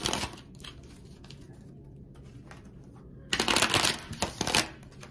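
Tarot cards are shuffled close by in two bursts, a softer riffle of flicking and sliding first, then a louder, brisk run of crisp card slaps, with no voice.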